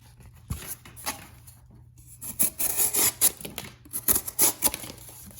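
A Mora Classic No. 2 knife saws and slices through cardboard in a series of short, close, raspy rubbing strokes, growing quicker and more rhythmic toward the end.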